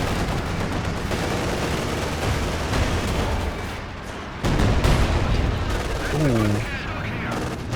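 Company of Heroes 2 battle: sustained rapid machine gun fire and scattered gunshots with heavier booms, loud and dense throughout, a voice briefly exclaiming near the end.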